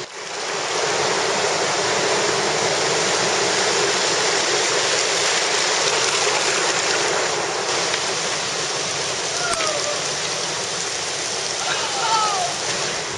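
Sea waves surging through the Bloukrans river mouth at high tide make a constant heavy roar of churning water, close and loud, with faint bird calls briefly audible over it.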